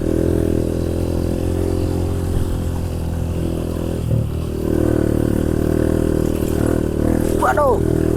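A trail motorcycle rides through a bamboo forest, its mid-pitched engine droning steadily and close, with brief rattles and clatter from rough ground; a rider talks over the engine.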